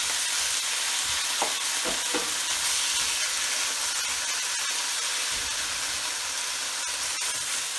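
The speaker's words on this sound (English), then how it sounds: "You want to sear the beef right now" Beef hitting hot oil in a pan for pepper steak, searing with a steady, close frying sizzle and hiss throughout, a few brief clatters of stirring near the start.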